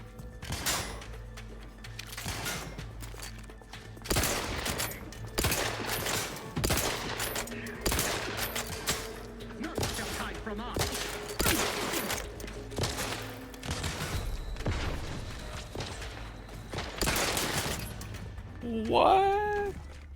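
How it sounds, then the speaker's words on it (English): Rapid automatic gunfire bursts in The Outer Worlds 2, a string of sharp, loud shots in uneven clusters across the whole stretch, with a voice talking over the action. "it made me auto-fire when I clicked."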